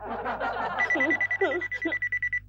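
A telephone rings in a rapid pulsing trill, close and clear, with a voice talking over the start of it.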